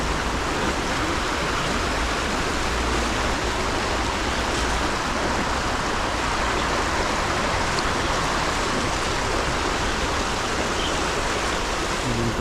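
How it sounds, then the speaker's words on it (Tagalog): Steady, dense rush of river water flowing over rocks in a forest setting, loud and close, with no break in the roar and no voices. "Ganda pa ng agos ng tubig oh."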